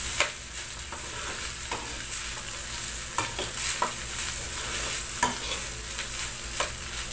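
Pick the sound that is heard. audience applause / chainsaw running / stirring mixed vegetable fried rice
stirring mixed vegetable fried rice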